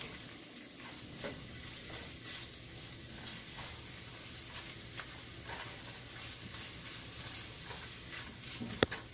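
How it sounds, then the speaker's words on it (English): Garlic and onions sizzle steadily in a hot pan while a spoon stirs them, giving a constant frying hiss with soft scraping strokes throughout and one sharp clink near the end, with nobody talking. "Now I'm just going to stir my garlic around with my onions for about 1 minute"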